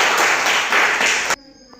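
Children clap together in a classroom, a loud, steady burst of applause that stops abruptly after about a second and a half, leaving quiet room tone.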